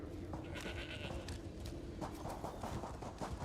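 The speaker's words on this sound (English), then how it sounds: "Very talkative goat." A goat in the video game ESO bleats repeatedly over dense, busy background game sound and music.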